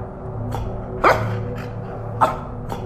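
Barks from a dog in a paranormal horror game, two or three distinct yelps about a second apart, moderately loud over a steady droning background hum, with no one speaking.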